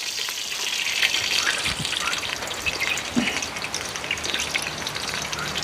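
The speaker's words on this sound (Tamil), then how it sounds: "இனி என்ன செய்யணும்னு சொன்னால் எண்ணெய் விடணும்" Cooking oil pours into a pan for homemade biryani, a steady soft gushing hiss with faint sizzle and a few small clinks, continuing evenly throughout.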